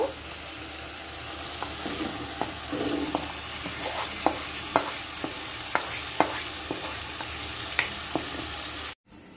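Meat goes into a pan of spiced masala fried down in oil until the oil separates, for a Bengali meat curry. A steady sizzle runs under repeated sharp spatula scrapes and taps as it is stirred, close by, with no talk.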